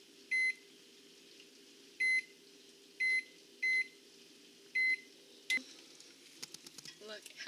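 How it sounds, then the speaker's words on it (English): A microwave oven heating marshmallows hums steadily while several sharp, evenly spaced beeps sound close by, followed by clicks and rustling as the door opens. "come over to the microwave."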